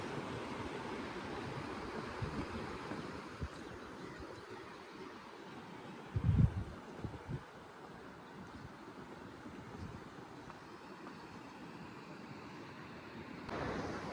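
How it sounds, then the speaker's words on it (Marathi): A river running with low water but steady flow, heard outdoors as a continuous broadband wash with some wind noise on the microphone, a brief louder knock partway through, and no talking. "तर आम्हाला नदी सापडलेली आहे"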